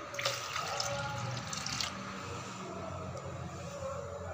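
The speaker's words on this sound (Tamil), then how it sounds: "இது கூடவே மூணு கிளாஸ் தண்ணியில் சேர்த்துக்கிறேன்" Water streams steadily into a pan while making kesari, a rushing splashy pour that softens slightly toward the end, heard alone and fairly quiet.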